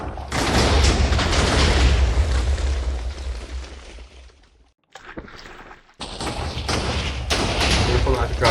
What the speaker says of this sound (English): Careful not to drop the TNT before opening the hatch